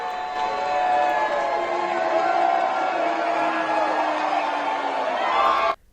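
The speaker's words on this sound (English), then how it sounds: "here's the video of Trump getting booed/cheered" A large crowd at the Kennedy Center reacting to Trump as he arrives with Melania, a steady loud mass of voices and calls that could be booing or cheering, lasting nearly six seconds before cutting off abruptly.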